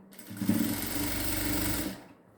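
A sewing machine stitches a blouse neckline in one short, fast, steady run of close, loud mechanical whirring that starts abruptly and stops within about two seconds.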